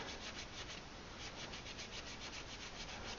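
Firm scrubbing to strip paint from an R2 bullpup rifle stock, a steady rasping rub repeated in quick back-and-forth strokes, close and continuous.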